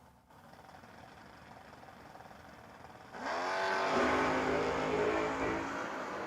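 A 1979 Camaro and another drag car launch off the start line at a No-Box 660 Shootout, a loud sudden roar of engines rising in pitch after a quieter idle, with no voices.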